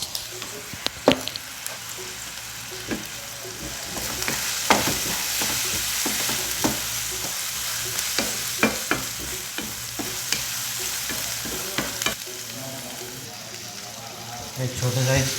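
Onion and tomato fry in a pan while Maggi is being made, producing a soft sizzle broken by repeated spoon scrapes and stirring taps, with a faint water-like hiss underneath.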